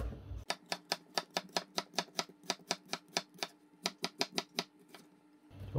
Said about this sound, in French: on va couper l'oignon assez finement